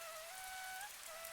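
Steady cartoon rain hisses in a dense, even wash, joined by a thin whistling tone throughout the short, unbroken stretch.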